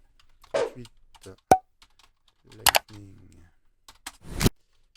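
A few sparse, sharp key presses on a computer keyboard in a quiet room, isolated clicks spaced out over several seconds, typed while working in Fusion 360.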